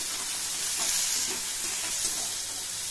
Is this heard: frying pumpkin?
yes